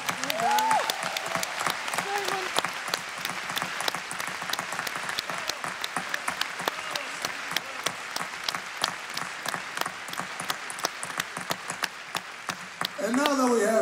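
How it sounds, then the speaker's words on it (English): A concert audience applauds the conductor, dense steady clapping filling the hall for most of the stretch, with a voice briefly heard at the start and again near the end. "another big applause for our fantastic conductor"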